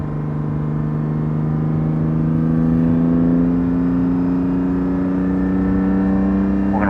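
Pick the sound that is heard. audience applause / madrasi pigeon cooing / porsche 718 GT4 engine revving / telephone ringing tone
porsche 718 GT4 engine revving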